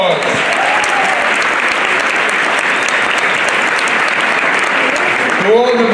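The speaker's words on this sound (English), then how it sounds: "Let's give them a round of applause." Loud, sustained applause from a large audience at a New York political event honoring an assemblyman. The dense clapping runs steadily for almost six seconds and ends in a brief voice.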